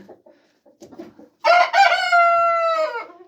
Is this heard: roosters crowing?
yes